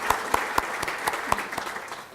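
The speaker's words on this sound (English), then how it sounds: "Please join me in welcoming them with a warm applause." Scattered applause at a Hall of Fame induction ceremony, a modest crowd clapping with a few distinct, regularly spaced sharp claps standing out above the softer wash of hands.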